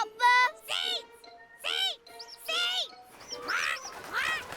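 Cartoon kea parrots squawk in a series of loud, harmonic, rising-and-falling calls, about six bursts in quick succession with short gaps, a soft jingle in the background.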